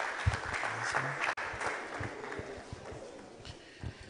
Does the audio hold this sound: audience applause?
yes